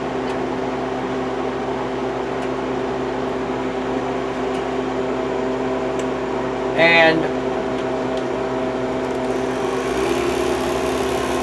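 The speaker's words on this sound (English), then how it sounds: "vacuum is turned on. Actually, it's really not that loud." A Harvest Right freeze dryer's vacuum pump runs as a steady, moderate mechanical hum with constant tones, fairly quiet, under occasional brief speech.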